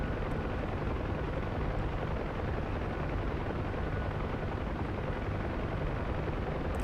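A UH-1 helicopter in the DCS flight game thumps and roars continuously with a dense, steady rotor and turbine wash, loud and unbroken throughout.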